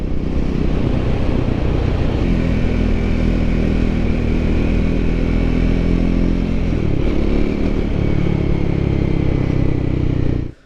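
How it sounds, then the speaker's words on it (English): A Triumph Scrambler 400 X motorcycle engine roars loud and close, revving steadily with a brief dip in pitch midway before picking back up, then cutting off. "The engine does feel like it will rev up pretty quickly and kind of wants to."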